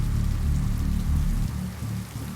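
Steady rain effect for a tabletop role-playing session, a dense, continuous patter of drops on a surface with a low rumbling undertone, fairly loud and unbroken, with no talk over it.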